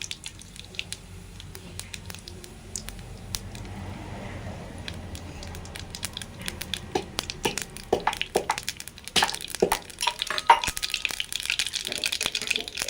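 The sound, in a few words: cumin and mustard seeds sizzling in ghee for tempering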